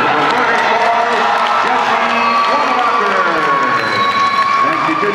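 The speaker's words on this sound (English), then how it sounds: "continue your applause for Whiter boxer, Matt Carlson." A crowd at an amateur boxing tournament applauds and cheers a boxer named winner of a 152-pound bout, with loud sustained clapping and shouts filling the hall while an announcer's amplified voice talks over it.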